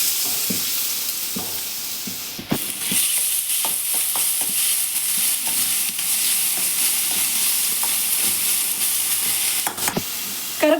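Onion frying and being stirred in a couple of spoons of hot oil in a pan, a steady close sizzle with scraping spoon strokes throughout.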